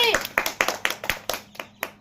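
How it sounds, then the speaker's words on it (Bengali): Children clap for a player in a wheel-rolling prize game, a short burst of about a dozen sharp, close hand claps in a loose rhythm, with a voice heard briefly at the start. "সবাই তোর একটা হাততালি।"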